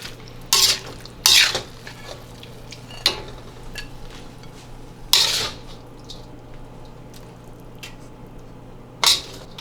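Ginger beef is stirred in a pan, with five or six sharp scraping clatters of a utensil against the pan at irregular intervals over a quiet low hum.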